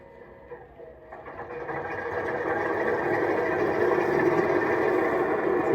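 Sound module in an O gauge Class 45 Peak model locomotive plays a diesel engine starting, a low rumble that swells over a few seconds into a steady idling throb, moderately quiet.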